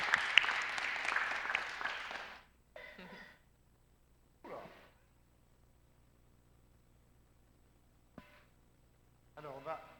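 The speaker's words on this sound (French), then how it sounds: "allez on l'applaudit" A church congregation applauds at a baptism, a dense burst of clapping for about two and a half seconds that quickly fades, followed by scattered voices and brief talk in a quiet room.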